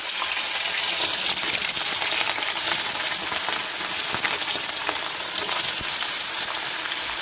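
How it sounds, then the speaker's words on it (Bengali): Pieces of hilsa fish fry in hot oil with a dense, continuous crackling sizzle that stays loud and close throughout, with no voices. "এবার দিয়ে দেবো ইলিশ মাছগুলো দিয়ে দেবো"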